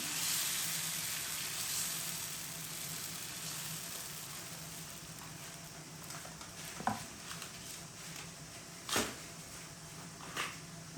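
Chana dal and wheat flour dosa batter sizzles steadily in oil on a hot griddle, a continuous close frying hiss with a few sharper crackles and pops near the end.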